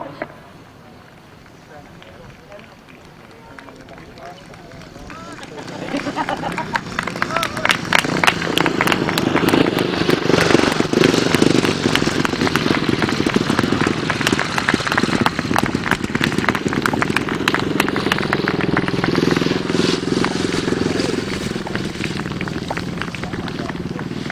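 Grasstrack racing motorcycles at a summer meeting build from a quiet start into a sustained, rough engine roar that holds for the rest of the stretch, with a commentator talking over it throughout.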